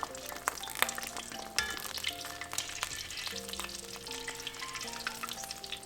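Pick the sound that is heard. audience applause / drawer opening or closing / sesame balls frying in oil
sesame balls frying in oil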